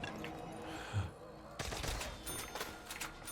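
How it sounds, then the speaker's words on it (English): Video game gunfire comes in rapid bursts of close, sharp shots over a busy background, with a gun firing triple shots. "Wait, why is it triple shooting?"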